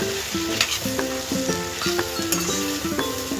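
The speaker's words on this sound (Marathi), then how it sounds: "आणि अशी परतत जायची आहे, म्हणजे जेणेकरून ती खाली आपल्या कढईला चिटकणार नाही." Okra and browned onion stir-fried in a kadhai, a steady oily sizzle with repeated scraping clinks of a spatula against the pan, close and clear with no talking.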